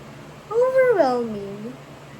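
A single drawn-out meow, made by a human voice imitating a cat, rising then falling in pitch, close and clear.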